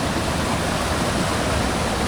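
Water pours down from above on a mountain trek in the monsoon season, a loud, dense, unbroken rush like a stream or small waterfall, with no talk over it.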